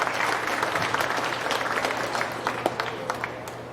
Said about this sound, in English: Give all these exhibitors a nice round of applause on a good set of steers.